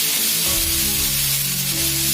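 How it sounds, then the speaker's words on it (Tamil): Chopped tomatoes hit a pan of browned onions for a Tamil crab gravy, setting off a loud, steady, dense sizzle that fills the whole moment with continuous frying hiss and a low pan hum. "இப்போ நான் எடுத்து வச்சிருக்க 2 தக்காளியும் சேர்க்கிறேன்."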